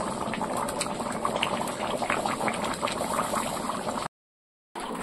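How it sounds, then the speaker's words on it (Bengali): Meat curry bubbling hard as it cooks over a clay stove, a steady, close, busy boil with popping bubbles that drops out briefly near the end before resuming. "এই যে দেখো উনুনে কেমন মাংস টক বগিয়ে রান্না করছি"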